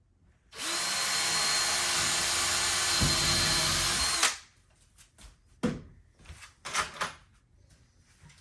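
A power drill drives screws into office cabinets in one long, loud, continuous whir lasting several seconds, then stops abruptly, followed by scattered wooden clunks and knocks of handling nearby.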